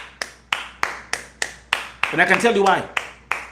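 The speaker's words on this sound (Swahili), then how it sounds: "Can we give Passenger kumpigia makofi?" Loud, crisp claps come at a steady regular beat on a TV talk-show set to welcome a guest, and someone speaks briefly over them partway through.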